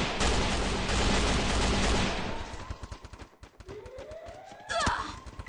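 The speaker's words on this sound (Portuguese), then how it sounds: "tá dando tiro nas minhas costas" Video game gunfire rattles in dense rapid bursts for about two seconds, then breaks into scattered single shots and a final loud blast, with a brief siren-like sweep behind.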